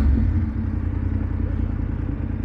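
A 2021 BMW F750GS TE motorcycle engine running on its standard exhaust with the resonator box removed, a steady low, throbbing idle with a slight clattery pulse, close and fairly loud, no speech.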